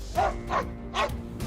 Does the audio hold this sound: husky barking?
yes